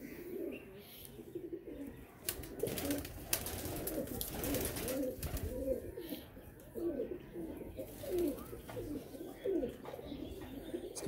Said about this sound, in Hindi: ये शेखों वाला कबूतर है जी।